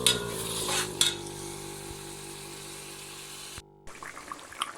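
Water goes into a pot of simmering Senegalese thieboudienne, giving a steady close bubbling hiss that cuts off abruptly near the end before quieter sizzling resumes.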